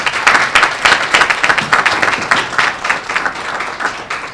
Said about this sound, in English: Yes, keep the applause going, ladies